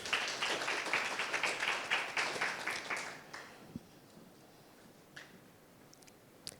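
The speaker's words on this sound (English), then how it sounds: "One more round of applause for all of our judges." Audience at a startup accelerator final presentation event claps for the judges, a dense round of applause for about three seconds that fades into a quiet room with a few stray claps.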